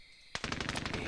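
Automatic gunfire in the war game Squad Battles Tour of Duty rattles out as a fast, loud burst of closely spaced shots after a quiet start.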